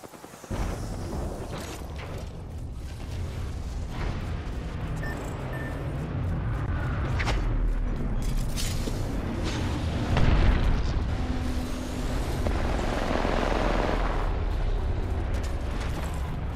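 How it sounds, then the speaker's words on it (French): Apex Legends match with a frag grenade explosion amid continuous gunfire, booms and battle clatter, a dense loud game mix with one stronger blast near the middle. "Grenade frag lancée."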